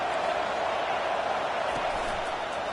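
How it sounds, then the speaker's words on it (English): A stadium crowd at a football game roars as one dense, steady wall of noise, loud and unbroken throughout. "Listen to this crowd just shaking the girders of this place"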